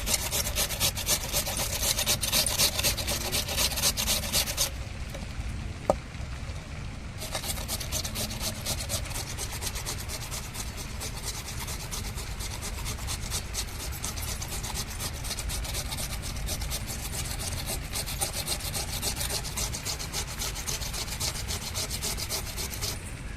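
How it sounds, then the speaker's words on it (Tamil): Potatoes being peeled or shaved: continuous dense scraping and rasping strokes, close and fairly loud, with a short pause near the start, no talk. "உருளைக்கிழங்க சீவி எடுத்துக்கிடுவோம்."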